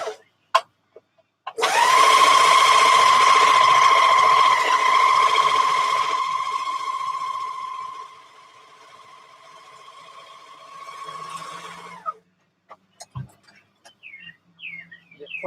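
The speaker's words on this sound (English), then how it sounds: "When you meet by the arm for serge, just serge it straight." A serger sewing a straight seam on a dress runs at a steady, close whir for about ten seconds and eases slightly in pitch and loudness before stopping, with soft clicks before and after.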